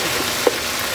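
Garlic and leftover marinade sizzling in a hot pan, a steady soft frying hiss with a brief louder pop near the middle, close and alone without talk.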